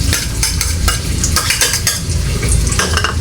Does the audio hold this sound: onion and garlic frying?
yes